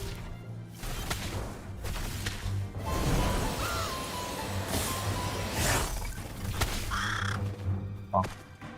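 A bird caws a few times at mid-distance in the fantasy MMO Ashes of Creation, mixed with game ambience, combat impacts and clatter.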